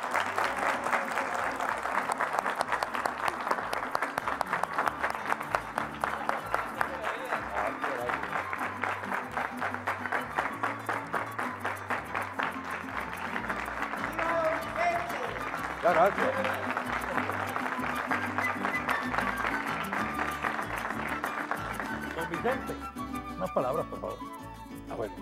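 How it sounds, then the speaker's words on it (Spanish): An audience applauding Don Vicente Echeverría, a long sustained round of clapping at moderate distance with voices mixed in underneath, fading near the end. "pido un aplauso para don Vicente Echeverría"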